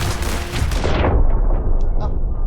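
A loud, dense burst of gunfire from the video game Hong Kong Massacre, with a rumbling blast that fades out over a couple of seconds.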